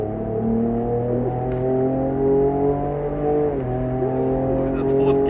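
A Ford Ranger Raptor pulls hard in sport mode on a race track in Zimbabwe, its engine droning loud and steady with rising tones, and someone talks over it.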